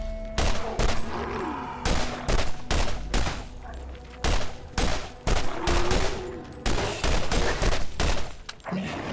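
Borderlands video game gunfire: loud, close, repeated bursts of shots in quick rhythmic volleys separated by short pauses, with no talk over the firing.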